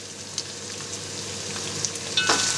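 Meat frying with paprika for Hutsul-style bograch sizzles steadily as it is stirred, with soft scraping and a few brief clinks over the constant crackle; no voices.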